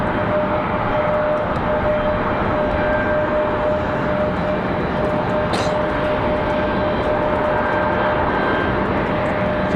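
A Lufthansa Boeing 787 Dreamliner, formerly flown by Austrian, at Raleigh-Durham International Airport gives off a steady, unbroken jet roar that stays at an even loudness throughout, with a windy wash over the whole scene.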